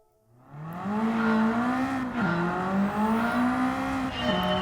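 A race car engine revs hard in a racing video game at Road Atlanta, a loud, tonal, climbing drone with quick dips between gear shifts, heard alone and close.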